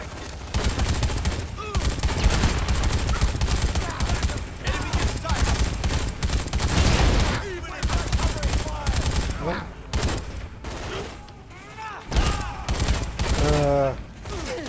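Dense, rapid gunfire from the Dead Rising 3 video game, fought against swamp enemies in a boss fight, rattles on almost without pause, with fast bursts and scattered shots over busy game noise and occasional voices.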